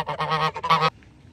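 Several loud, nasal goose honks in quick succession, close by, ending abruptly and followed by quiet.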